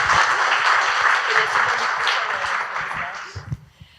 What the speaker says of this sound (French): je vous demande d'applaudir chaleureusement les panélistes